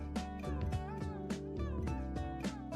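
A cat's repeated drawn-out vocal sounds, yawning in a bathroom, close and fairly loud, over a steady musical backdrop with rhythmic accents.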